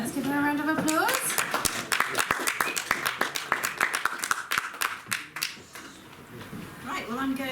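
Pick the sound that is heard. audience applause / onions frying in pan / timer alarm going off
audience applause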